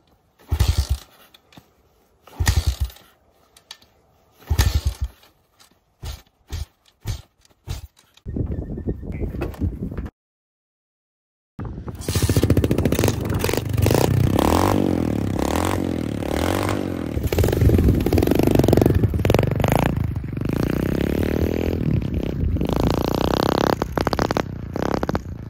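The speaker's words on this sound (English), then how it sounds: "So the pit bike runs very badly" A pit bike engine being started and running badly: several short bursts of cranking and sputtering, then a pause, then a loud rough engine that runs unevenly for a long stretch, with no voices.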